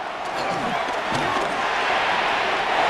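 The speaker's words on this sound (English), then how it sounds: "The Arrowhead crowd in full roar." Arrowhead Stadium crowd in Madden NFL 26, a steady, dense roar of thousands of fans at a Chiefs–Cowboys football game, loud and sustained throughout without a break.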